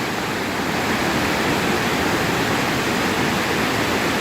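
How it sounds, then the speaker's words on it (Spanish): Agua Azul waterfalls in Chiapas, Mexico, pour in a steady, loud, broadband roar of cascading water that holds even and unbroken from start to finish, with no voices. "Cascadas de Agua Azul, Chiapas."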